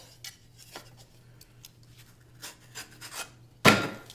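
A knife slices through drywall patch paper in a run of faint, scratchy strokes, then one sharp, loud crack of noise near the end.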